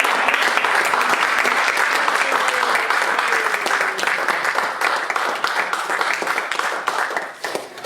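Church congregation in Paris applauding and acclaiming as a prophet is welcomed, loud continuous clapping with crowd voices and cheers mixed in, tapering slightly toward the end.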